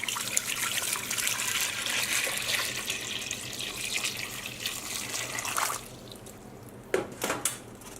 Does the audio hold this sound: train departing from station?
no